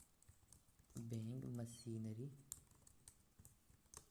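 A computer keyboard is tapped in quick, light keystrokes while someone speaks over it for about a second and a half, and the typing carries on alone afterward.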